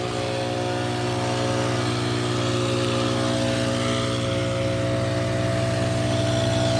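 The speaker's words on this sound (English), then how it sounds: "Man, I hate that blower," A loud leaf blower runs steadily and continuously nearby, its engine drone constant throughout, heard across a big parking lot during crack sealing work.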